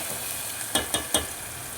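Mustard seeds and turmeric sizzle in a hot pan while being stir-fried, with three sharp scraping strokes of a spoon over a soft steady frying hiss.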